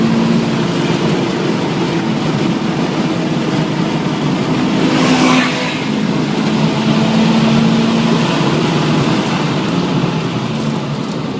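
A Subaru BRZ accelerating on the Infineon race track, its engine giving a loud, steady drone heard from inside the car that swells briefly around the midpoint and holds strong to the end, with no voices.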